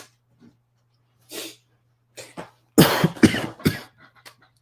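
A person coughs in a few short, close bursts, the loudest cluster coming near the end after quieter breaths and a faint rasp, with a low steady hum beneath.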